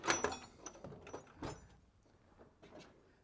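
A drawer on an SGS US-pro tool chest slides along its ball-bearing track, giving a few close, light rolling rattles and clicks that fade toward the end.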